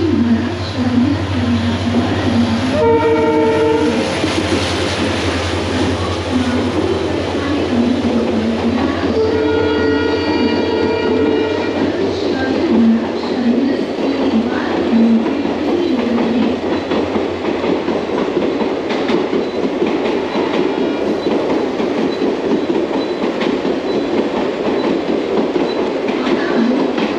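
Mahanagri Express train rolling slowly through Parel station in Mumbai, a steady loud rumble of wagons with clickety-clack over the rail joints and a couple of short horn blasts, continuous for the whole stretch.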